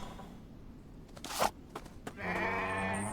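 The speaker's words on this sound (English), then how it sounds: "It sounds like a sheep, though." Sheep bleating in The Infected survival video game: after a few soft crunching sounds, a steady, drawn-out bleat comes in near the end and holds clearly at moderate volume with no talking.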